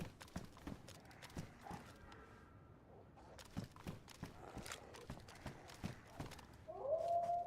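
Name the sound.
wolf pack howling in the VEIN video game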